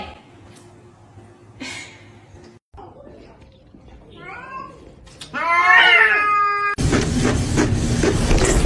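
Kittens meow in several separate calls, some soft and some rising and wavering, set against quiet indoor background noise. A loud, noisy rush follows near the end.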